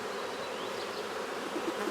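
Honey bees buzz continuously during an early-season hive inspection, a close, steady, dense hum with no pauses.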